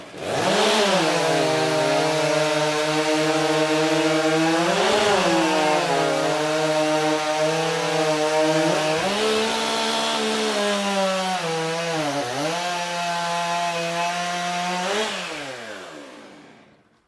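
A racing chainsaw screams through timber during a STIHL Timbersports Nordic Pro Championship race, a loud, sustained high-revving whine that dips briefly as it bites into the wood, then fades away at the end.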